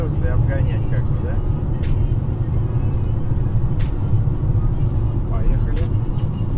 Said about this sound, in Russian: Сейчас еду сотку на пятый и буду перестраиваться и обгонять как бы, да?